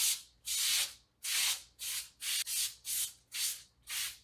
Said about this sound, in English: Next, we're going to spray down our pan.